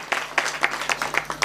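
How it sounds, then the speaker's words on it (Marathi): Audience clapping at a Marathi devotional kirtan gathering, heard as a loose burst of separate handclaps in uneven rhythm, moderately close with no speech over it. "एकदा त्याच्यासाठी जोरदार टाळ्या वाजवा"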